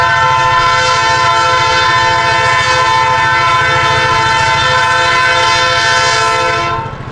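A Valdosta Railway freight train rolls past at about 20 mph on Old Clyattville Road, its horn blaring loud and steady over the continuous rumble and clatter of cars before it begins to fade at the end.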